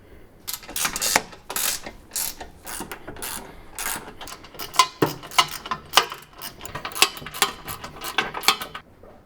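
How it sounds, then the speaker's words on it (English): A 13mm ratcheting wrench tightens nylock nuts on a Front Runner Slimline II roof rack on a Toyota Tacoma, giving rapid bursts of close, crisp ratchet clicks in uneven runs with short pauses between. "we're going to grab a 13mm wrench and tighten everything down"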